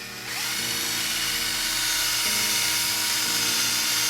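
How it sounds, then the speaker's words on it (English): Power drill pre-drilling a hole in the wooden frame for a stained glass panel, a loud steady motor whine that starts abruptly and holds constant, with slight pitch dips as the bit bites. "we want to pre-drill that hole"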